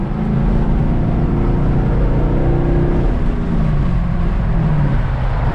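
An aqua blue Camaro SS V8 with a newly installed X-pipe, cutouts removed, idles and revs at a muffler shop, giving a loud, deep, throaty exhaust rumble that holds steady throughout with no talking.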